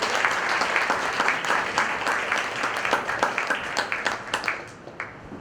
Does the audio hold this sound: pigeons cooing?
no